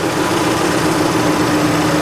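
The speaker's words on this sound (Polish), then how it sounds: "już przynajmniej pracuje silnik" A tractor's small engine runs steadily at idle, a continuous droning hum with a faint rattle, loud and close, no voices.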